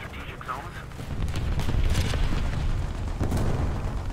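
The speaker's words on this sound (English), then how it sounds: "Someone shot at me from down there." Distant gunfire and booming artillery in the tank combat game War Thunder, a rumbling low barrage with a few sharper cracks, loud and continuous across the clip.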